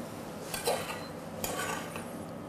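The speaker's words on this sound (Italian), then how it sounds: "Adagiamo i nostri stracinati in un piatto di portata." Cutlery and dishes clink softly while strascinati pasta is plated onto a serving dish in a home kitchen, a few faint scrapes and taps with no talking.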